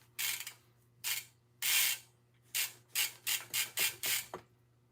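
A bicycle is scrubbed to remove rust, giving about nine close, harsh rasping strokes in an uneven rhythm with short pauses between them and no talking.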